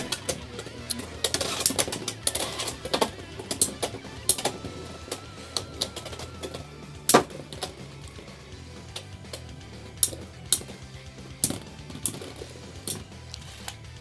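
Beyblade Metal Fight tops clash in a stadium, with irregular sharp clicks and metallic ticks of spinning tops knocking together, fairly quiet and scattered, with no talk over them.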